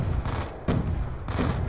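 Rapid automatic gunfire from a Black Ops 2 multiplayer match, with two or three loud bursts of shots separated by short gaps, close and harsh, and no voice over it.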